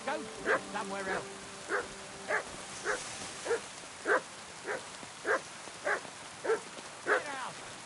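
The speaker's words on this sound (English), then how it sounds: "Sit and bark." A dog barks repeatedly in Kingdom Come: Deliverance II, a dozen evenly spaced, fairly close barks at a steady rhythm, with a few quick whimpering yips early on.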